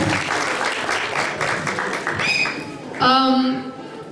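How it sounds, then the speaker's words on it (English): Children at a kids' Christmas conference in a church clap together in a busy, sustained burst, with voices and chatter mixed in throughout and a brief sung or called-out tone near the end. "Clap for him."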